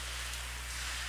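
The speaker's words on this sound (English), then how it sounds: "freezing rain" Freezing rain hits the roof of an ice hockey rink, a continuous soft hiss of pattering drops heard from inside the arena, steady and fairly faint.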